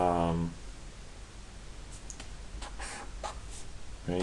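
Chalk or marker scratching out equations by hand on a board during a lecture on first-order systems in matrix form, several short strokes in a row, with brief talk at the start and end.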